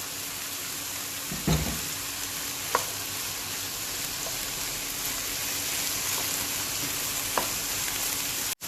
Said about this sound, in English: After stir frying that for 1 minute, you can add the cabbage, the capsicum and the yellow bell pepper.